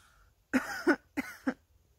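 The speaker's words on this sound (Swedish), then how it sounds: "Han hostar." A man coughs twice, each a quick double burst, fairly close in a quiet room.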